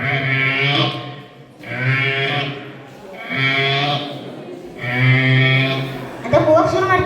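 A human voice imitates a buffalo's lowing with four long, loud, drawn-out calls separated by short pauses, each close and alone.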